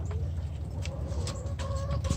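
Backyard birds close by in spring, sounding as a few short chirps and calls over a steady low rumble of outdoor background noise.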